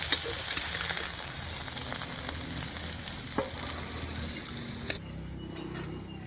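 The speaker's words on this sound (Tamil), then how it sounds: "பாவக்காய் வந்து பார்த்தீங்கன்னா நல்லா வதங்கிருச்சு" Bitter gourd fries in oil in a pan, a steady close sizzle with faint stirring scrapes and small pops, dropping to a quieter hiss near the end.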